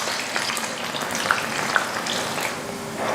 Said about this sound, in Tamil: வெங்காயத்தை நல்ல பொன்னிறமாக வறுத்து நம்ம அதுக்கப்புறமா எடுத்துக்கலாம்